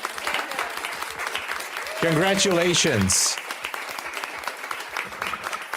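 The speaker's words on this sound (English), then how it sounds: "Huge applause for Terry" Applause during a live futures trading stream is a thin, continuous patter of claps running underneath as someone briefly speaks a congratulation partway through.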